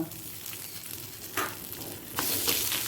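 Mung dal frying in oil over a low flame with ginger paste stirred in, a steady close sizzle with a few louder bursts and scraping stirs, no voices.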